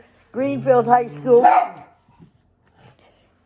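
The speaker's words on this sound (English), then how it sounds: "and excuse my dog" A pet dog barks briefly in a house, a short bark right after someone speaks, then near silence.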